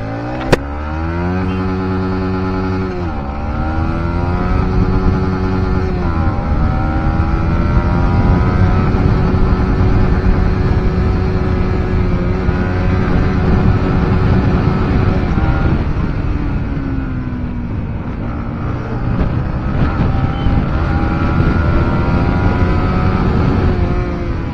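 A motorcycle engine with an aftermarket exhaust runs loud and close for the whole stretch, a steady throaty drone whose pitch climbs and dips as it revs and changes speed, with no voices.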